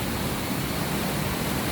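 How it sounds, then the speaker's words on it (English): Scaleber Force waterfall roars as a dense, continuous broadband rush of falling water, loud and close, steady throughout with no voices. "hopefully you can hear me above the sound of the waterfall"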